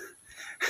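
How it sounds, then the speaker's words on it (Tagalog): Brief, raspy breathing with a wheezy edge, heavy and close, rising into a sharper exhale at the end, from people winded after climbing uphill. "Hingal na kami, hingal na."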